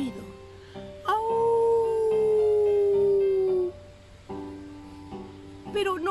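A human voice imitates a wolf's long howl in a children's tale set in the snow, one sustained sliding wail lasting a few seconds, with soft speech-like sounds before and after.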